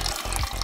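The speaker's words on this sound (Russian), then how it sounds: "нужно слить воду, также с трубы через американку" Water drains from a home heating pipe through a union fitting during radiator replacement, a steady, close rushing flow with slight gurgling pulses.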